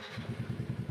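A Yamaha Nmax scooter engine cranks and catches, giving a rapid, even low chugging pulse up close for under a second, with no talk over it.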